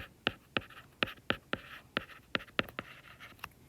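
Pen strokes writing a label on a surface, about a dozen short scratchy marks in an uneven rhythm, close and clear against a quiet background.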